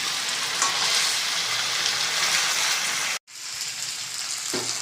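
Chicken fries and is stirred for a Bengali chicken kosha, making a loud, dense sizzle with scraping stirs. The sound cuts out briefly near the end, then resumes with a knock.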